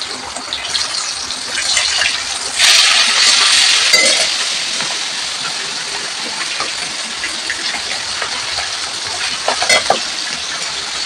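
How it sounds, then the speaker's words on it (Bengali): Chicken pieces frying in hot, splattering oil, a loud, dense continuous hiss with a louder surge early on and scattered crackles and pops throughout, no talking. "তেল ছিটকাচ্ছে তাই। আমি মুরগি দেওয়ার জন্য চলে যাচ্ছি।"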